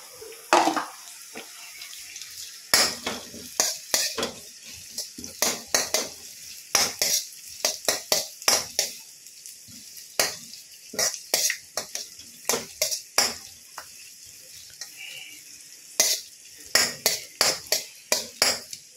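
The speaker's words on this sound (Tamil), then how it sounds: "I'm just putting onion." Onions stir-frying in a pan while making homemade millet noodles, with repeated sharp scrapes and clinks of a utensil against the pan over a steady close sizzle, no talking.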